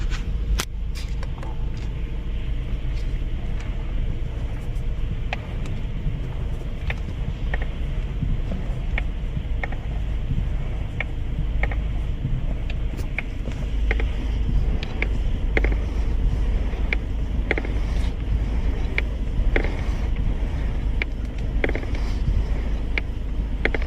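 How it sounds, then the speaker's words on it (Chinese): A Mercedes-Benz GLE with a faulty steering column module gives off repeated faint creaks and clicks as the wheel is turned while stationary, irregular ticks over a low steady engine hum, no talking. "听着是转向柱模块传出来的声音"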